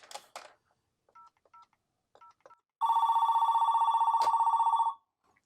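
Telephone on a homelab dial-up line connected to a Cisco FXS port: a few short DTMF keypad tones, then a loud continuous electronic ring lasting about two seconds with a brief click near its end.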